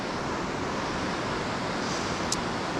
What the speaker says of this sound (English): this is the Dartmouth Rapids